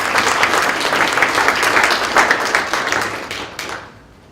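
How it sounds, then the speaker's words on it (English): Audience at a 2018 CEC presentation applauds a presenter with dense, steady clapping that holds for about three seconds and then thins and fades out. "Let's have a round of applause for him."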